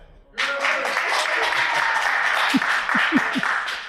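A live audience at a podcast recording in Izola bursts into cheering and clapping, a broad roar of voices and applause that starts abruptly and holds steady, with a few whoops and shouts rising above the crowd.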